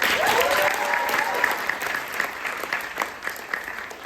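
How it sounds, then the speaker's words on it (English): An audience gives a round of applause for students and teachers at a celebration event, steady dense clapping from a sizable crowd that gradually thins toward the end. "Let's give them a round of applause."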